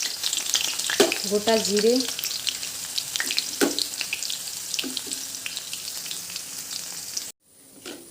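Chopped onion and crushed garlic sizzle in a hot wok with a loud, close, continuous crackling fry and stirring scrapes, while a voice speaks briefly early on.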